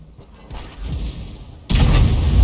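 A KV-2 heavy tank cannon fires in a tank combat video game, a loud sudden blast at about the midpoint, preceded by a quieter rumble and followed by a sustained roar.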